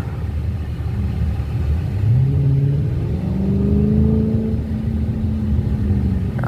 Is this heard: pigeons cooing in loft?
no